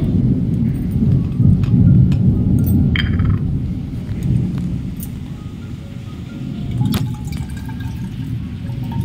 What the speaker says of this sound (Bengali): আগের দিন এত বৃষ্টি হয়েছে তোমাদের দেখালাম